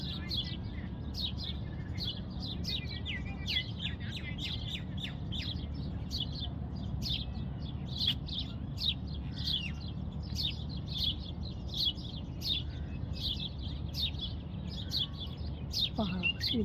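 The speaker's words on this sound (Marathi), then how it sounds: "इथे ज्यात आवाजही येत आहे ना तुम्हाला पक्ष्यांचा, आणि आजूबाजूला देखील खूप सारे पक्षी आहेत इथे" Many birds chirp and tweet around a Manila tamarind tree near sunset, with short, high calls repeating all through the clip over a steady outdoor background.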